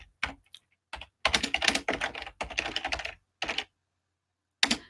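Quick bursts of clacking keystrokes on a computer keyboard, close and fairly quiet, come in uneven clusters separated by short pauses, with no talk over them.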